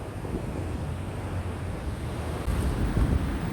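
A swollen river rising fast and starting to flood a side walkway gives a steady, broad rushing roar of water, loud and close, with a brief surge in intensity near the end.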